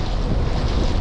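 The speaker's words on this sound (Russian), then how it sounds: "Поднялся ветер против течения, нагоняет волну." Wind gusting against the current on an autumn river while out fishing, with steady broadband wind rush and wind buffeting on the microphone over choppy water and small waves slapping, continuous and fairly loud, no talking.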